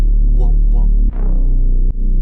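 A pop production in FL Studio with sidechain pumping made by automating Fruity Balance: a loud, bass-heavy sustained synth ducks sharply at each kick and then swells back up, two pumps in a short stretch, with no talking.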